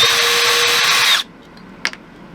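A power drill whines loudly and steadily for about a second, backing out the screws that hold an electrical converter in place, then cuts off, followed by a couple of faint clicks.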